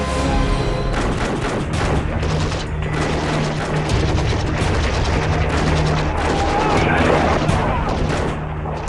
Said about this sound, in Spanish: De pronto, suenan disparos procedentes del interior.